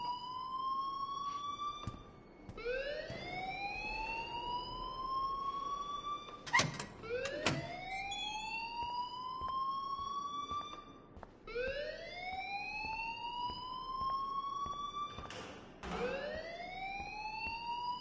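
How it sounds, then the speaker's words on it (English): An alarm in the video game Life is Strange, a loud rising siren-like wail repeating in regular sweeps about every four seconds, with brief sharp knocks between. "please turn off that alarm since that's your job."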